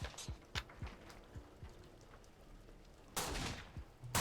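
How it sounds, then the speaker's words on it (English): Gunshot sound effects played during a Call of Cthulhu 7th edition tabletop session, with a string of sharp cracks in the first two seconds, then a louder, longer burst of noisy blasts near the end. "you just sort of hear the gunshots"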